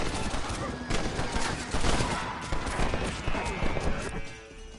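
Rapid, overlapping gunshots crackle in the Red Dead video game, a dense fusillade of sharp cracks throughout with horse sounds mixed in and a voice shouting over the gunfire.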